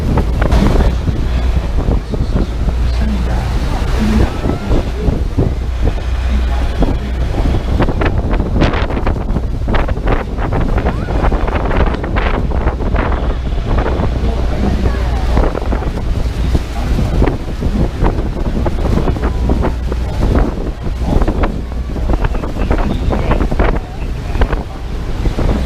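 A tour boat heading into the heavy spray beneath Niagara Falls, with loud roaring water, waves and strong wind buffeting the microphone continuously, faint voices mixed into the din.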